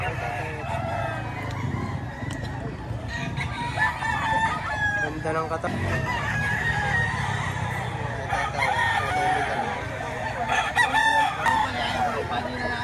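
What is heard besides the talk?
rooster crowing at a chicken market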